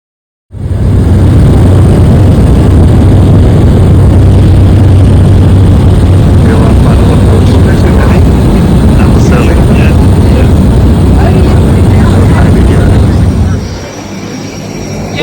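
A loud, steady droning engine of a small 12-seat propeller plane with a propeller-like hum runs close by for most of the time, then drops off abruptly near the end after landing.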